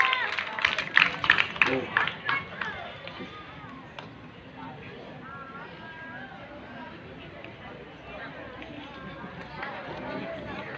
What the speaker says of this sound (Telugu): గట్టిగా చప్పట్లు పెట్టండి రా చప్పట్లు పెట్టండి